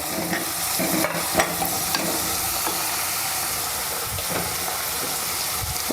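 Crushed ginger and garlic frying in a pan, a bright, close, continuous sizzle with light scraping from stirring and a few soft knocks.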